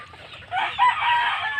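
Egg-laying chickens cluck and call close by in short, busy bursts, a few hens overlapping over a quiet background.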